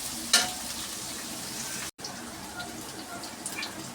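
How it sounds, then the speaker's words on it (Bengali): Chopped onion fries in a pan for biryani, a steady close sizzle with faint crackles and a brief stir near the start, broken by a momentary cut. "পেঁয়াজটাকে লাল করে ভেজে নিব"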